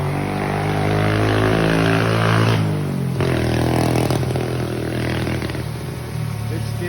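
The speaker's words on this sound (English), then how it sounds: "Here comes the motorbike." A motorbike passes close by outdoors, its engine rising to a loud, steady harmonic drone that shifts pitch midway as it goes past, with a faint whirring drone hum in the background.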